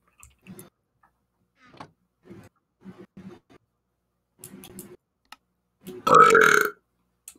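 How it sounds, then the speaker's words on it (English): A single loud, drawn-out burp near the end follows quieter scattered clicks and soft taps, close to the mic with no talk over it. "The burping."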